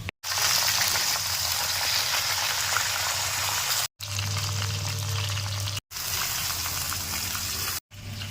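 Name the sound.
sun-dried whole mangoes frying in oil in a kadai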